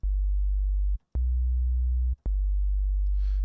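808-style sine sub bass synth patch built in Native Instruments Massive, tuned down two octaves, playing three long, loud, pure low tones with short clicky gaps between notes and nothing else over it.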